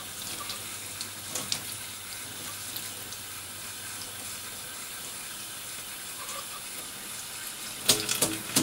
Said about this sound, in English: and get it hot with the water.